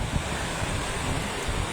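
Strong current of the Cabacan River in the countryside near Marilog, Davao City, a steady broadband rush of flowing water with wind buffeting the microphone, continuous and loud with no pauses.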